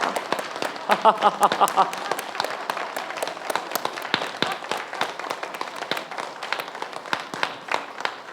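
A church congregation claps in a rapid, scattered burst during a dawn service, starting strong and thinning into irregular claps, with some voices and laughter mixed in at first.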